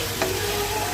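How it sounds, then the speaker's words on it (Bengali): Chicken wings being stirred with tomato and sauce in a frying pan, a steady low sizzle with a brief scrape of the spoon, close and continuous with no talking. "নেড়ে ভালো করে মেখে দেবো এটা ফ্রাই প্যানের মধ্যে"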